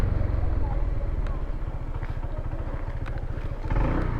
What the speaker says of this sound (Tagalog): Ipapasok ko yung motor.